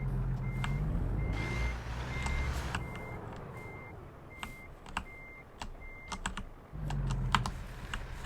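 Reversing beeps sound from an articulated truck in American Truck Simulator, a steady series of evenly spaced, moderately loud tones over a low engine rumble, with scattered sharp clicks from keyboard typing throughout.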